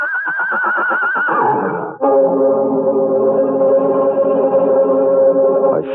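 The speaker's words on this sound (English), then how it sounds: "the huge horse, his ears flat against his skull, his eyes rolling wildly at the farmer" Radio drama sound effect of a huge horse neighing loudly, a shaky whinny sliding down into a long sustained bray-like call, close and alone.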